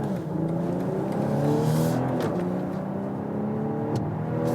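A BMW X6 40i xDrive accelerates hard in sport mode, its engine note climbing steadily through rising harmonics, loud and continuous, with a brief shift dip partway through and no voices.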